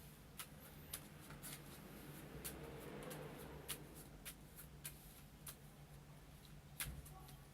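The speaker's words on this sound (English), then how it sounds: "I think I need one more shuffle." Tarot cards riffle and slide in a continuous shuffle, with sharp little snaps of cards striking together at irregular intervals, close and fairly quiet.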